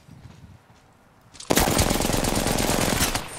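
Rapid automatic gunfire in a team-based shooter video game bursts in loudly and keeps going as a dense, sustained volley after a brief quieter stretch at the start.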